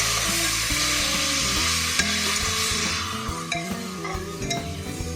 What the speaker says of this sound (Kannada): ಇದಕ್ಕೆ ಹಚ್ಚಿಟ್ಕೊಂಡಿರೋ ಟೊಮ್ಯಾಟೊ ಹಾಕ್ತಾ ಇದ್ದೀನಿ.